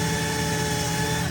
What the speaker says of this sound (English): they're drilling out the holes